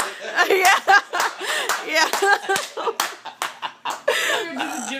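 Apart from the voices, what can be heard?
slow clap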